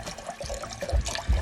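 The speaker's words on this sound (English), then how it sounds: "So I'm gonna take the other thing of chicken broth, shake it up a little bit, pour that in as well." Chicken broth is poured from a carton into a cooking pot, making a soft, uneven liquid glug and splash with a few heavier thumps near the end.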